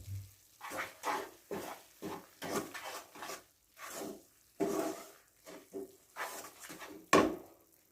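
Powdered sugar is stirred into melted khoya in a pan while making egg halwa, giving soft, uneven scraping and knocking strokes of a spoon with short pauses between, fairly quiet and close.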